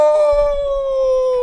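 A person imitates a wolf howl with one loud, sustained, slightly falling tone held close to the microphone, a faint rumble beneath it.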